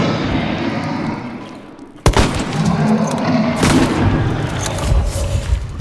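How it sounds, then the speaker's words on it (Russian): A single sharp, loud gunshot cracks out in Hunt: Showdown, breaking a low, murky ambient rumble and leaving a lingering, noisy reverberant tail with faint scattered thuds afterward. "Значит, стреляю."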